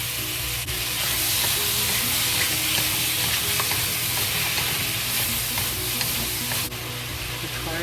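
Bok choy and mushrooms stir-frying with oyster sauce in a hot pan, a steady loud sizzle with scraping stirs throughout, no talking.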